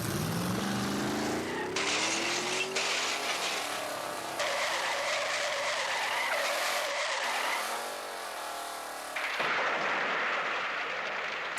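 A race car circling the Indianapolis 500 track, engine whining and rising and falling in pitch through gear changes. Tires squeal in bursts and the engine roars loudly, with no talking.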